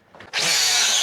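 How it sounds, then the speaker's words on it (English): An angle grinder bites into a metal gate, starting after a brief quiet moment and settling into a loud, steady high-pitched whine that holds to the end. "Let me see if I can get it to it with the grinder."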